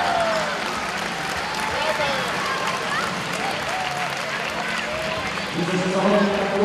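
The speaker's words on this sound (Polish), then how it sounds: "Brawa, proszę Państwa, brawa, nie może być inaczej." Audience applause after a fight display at an event in Szczytno, a continuous wash of crowd clapping heard at moderate distance, with a voice talking over it throughout.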